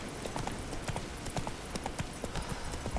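Horse hooves clip-clop at a steady walking rhythm in The Witcher 3: Wild Hunt, a continuous run of evenly spaced thuds over low ambient rumble, with no talking.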